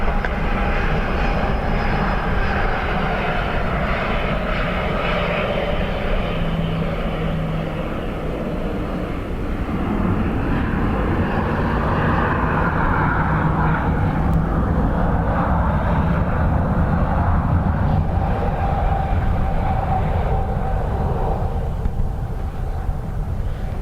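A jet airliner makes a full takeoff run on runway 28 at Dublin Airport during Storm Éowyn, its engines holding a loud, sustained roar that swells and shifts in pitch across more than twenty seconds, mixed with gusting wind.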